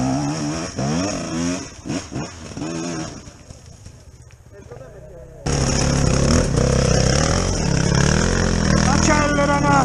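A motorcycle on a group ride in Orani accelerates. Its engine roar breaks in abruptly halfway through and stays loud and close, with rising revs near the end. People talk over the earlier, quieter part.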